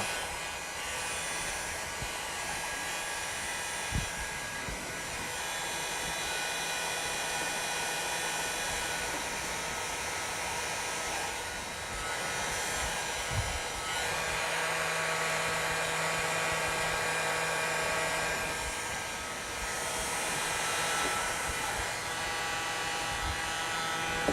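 A heat gun gently warms the tips of vinyl wrap film on car bodywork, giving a steady, loud hiss and blowing whine that holds throughout with small dips, no voices present.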